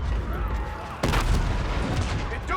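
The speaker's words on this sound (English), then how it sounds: "Our Aegis guns are still firing on our fleet." Aegis defense guns open fire in Call of Duty: Infinite Warfare, a sudden loud burst of heavy gunfire over a steady rumbling battle din, continuing densely to the end.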